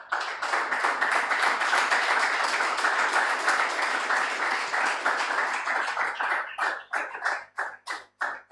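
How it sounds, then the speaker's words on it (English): An audience applauds two teams walking onto the stage at a university business competition semi-final. Dense, loud clapping from many hands holds steady, then thins into a few separate, slowing claps before it stops. "Please join me with a round of applause as I welcome the two teams on stage."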